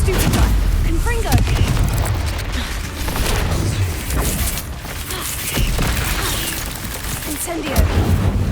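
Repeated booming blasts and crackling bursts from Confringo blasting curses in a Harry Potter video game, dense and continuous over a heavy low rumble with overlapping spell effects throughout.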